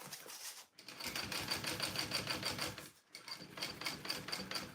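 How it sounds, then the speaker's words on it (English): A sewing machine running a second row of stitching with rainbow thread, a fast steady rattling drone close by, stopping briefly twice before starting again. "So we'll do that second row of stitching here."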